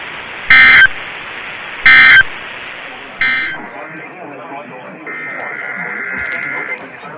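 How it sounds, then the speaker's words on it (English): A NOAA Weather Radio sounds its public warning alarm tone for a test. Two short, loud, shrill beeps come first, then a longer steady tone, with a broadcast voice speaking under and between them. "the National Weather Service has just activated the public warning alarm tone in the test"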